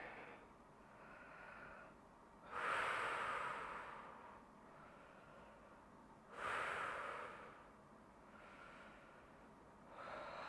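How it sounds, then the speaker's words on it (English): Two deep, slow breaths swell out of a quiet room, each a loud breathy rush lasting about a second, taken while holding a lunge stretch in an at-home workout. "take a few deep breaths in here."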